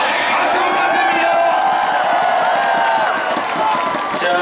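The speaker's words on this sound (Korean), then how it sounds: "박수 부탁드립니다." Baseball fans at a Hanwha Eagles MVP ceremony applaud and cheer the MVP Rosario, a loud continuous roar of crowd cheering and clapping with whoops mixed in.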